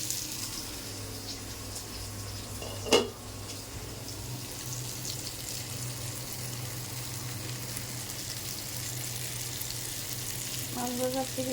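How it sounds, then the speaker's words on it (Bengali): Pieces of rohu fish fry in a covered pan, giving a steady close sizzle with one sharp knock early on and a light clatter at the end. "মাছ ভাজা ফিরিয়ে দিলাম"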